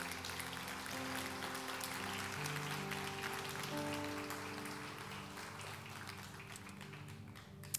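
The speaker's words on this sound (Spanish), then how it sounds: "Den un aplauso a Jesús" A church congregation gives sustained applause, a dense wash of clapping over low, steady music tones that carries through most of the stretch before easing slightly at the end.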